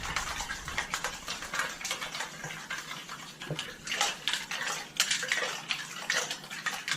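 Bloody Mary mix is shaken hard in a sealed shaker, making a rapid series of sloshing, rattling bursts in an uneven rhythm, close and fairly quiet.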